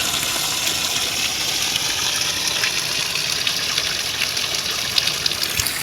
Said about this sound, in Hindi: गांव के लोग जब आते हैं तो यहाँ से पानी भर कर ले जाते हैं